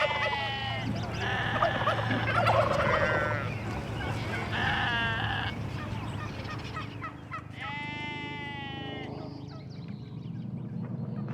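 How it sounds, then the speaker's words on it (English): Turkeys on a heritage farm on Salt Spring Island gobble in repeated rattling bursts, with bleating sheep or goats mixed in and a voice speaking faintly underneath. "At the Heritage Farm, turkeys were gobbling"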